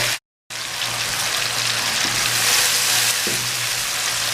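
A medium tomato fries with spices in a pan for vegetable pulao, giving a loud, steady close sizzle after a brief silent gap at the start.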